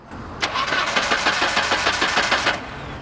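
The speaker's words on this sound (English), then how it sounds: "Hey, Mike, try and spin it over, will you?" A Ford F250 pickup's starter cranks the engine over in a quick run of rhythmic, whirring turns that begins abruptly, carries on loud and close for about two seconds, then stops without the engine catching.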